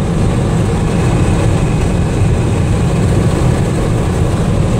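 A Dodge truck engine runs hard on back roads, a loud, steady low drone with road and wind rumble throughout, no talking.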